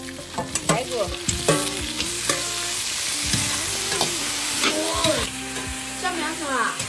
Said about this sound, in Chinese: 炒一下子，给这个肉倒进去